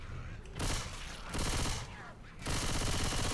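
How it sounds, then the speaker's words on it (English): Submachine gun fire in Left 4 Dead 2 on Xbox 360 comes in three dense, sustained automatic bursts, loud and close, separated by brief dips. The game's other sound continues between bursts. "It is a sub-machine gun."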